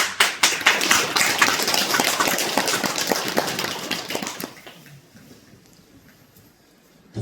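An audience at a Buddhist temple dharma service claps together, a dense burst of loud, rapid applause that holds for several seconds, then thins out and fades to near quiet.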